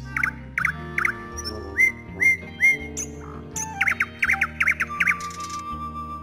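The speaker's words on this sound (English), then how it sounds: "The nightingale sang so sweetly that the emperor had tears in his eyes." A nightingale's song rendered as bright, melodic whistled trills and chirps in quick repeated bursts, heard over a low musical accompaniment in a children's fairy-tale story.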